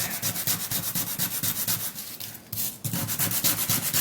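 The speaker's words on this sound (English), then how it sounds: "now I got this sandpaper. I'm going to sand it." Rapid, rhythmic rasping strokes of 220-grit sandpaper rubbing on a wood splice, loud and close, with a brief pause near the middle before the scrubbing resumes.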